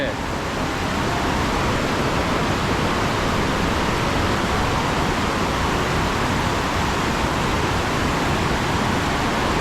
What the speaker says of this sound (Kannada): ಏಯ್ ಅಲ್ಲಿ ಫಾಲ್ಸ್ ಇದೆ